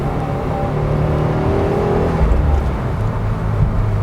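A 2018 Subaru WRX's turbocharged boxer engine revs up from inside the car, a steady low rumble that climbs and swells with rising whir, close and loud throughout.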